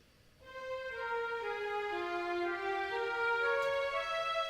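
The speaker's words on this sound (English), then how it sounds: "oboe in its lower register, which has a very reedy sound. Right, in combination with the hollowness of the alto flute" A sampled oboe in its low, reedy register blends with a hollow alto flute, playing a soft, sustained phrase of a few held notes that step slowly downward, alone and quiet.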